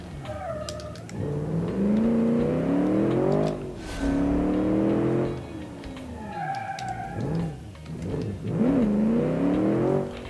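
An all-wheel-drive 4x4 car in the Automation game revs and accelerates through repeated gear shifts, its engine note climbing, dropping and climbing again in several rising sweeps, loud and close with no talk.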